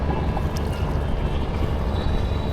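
A boat out on the Buriganga river in Dhaka, heard as a steady close rumble of engine and water with wind buffeting the microphone, with no talk.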